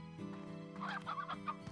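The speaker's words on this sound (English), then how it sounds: "seems like I only have chickens" Chickens in the Slime Rancher game cluck close by in a quick burst of several clucks over a steady low ambient hum, with no voices.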